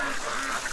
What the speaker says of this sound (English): I moved the camera to get that view because all the ducks were there